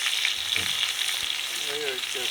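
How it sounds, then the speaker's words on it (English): Chicken breasts fry in butter on a grill, giving a steady loud sizzle and crackle throughout, with a brief murmur of voices underneath. "Because that one in the middle, it's practically boiling in butter."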